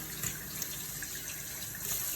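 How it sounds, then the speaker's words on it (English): Cold tap water runs in a steady, faint stream over a spoon at a kitchen sink, a soft continuous splashing hiss with no voices. "take a spoon, run it under cold water for several seconds"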